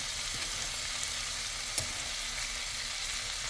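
Steak frying with onions on top in a pan inside a van, a dense, even sizzle holding steady throughout, close and fairly loud, with one small tap partway through and no talking.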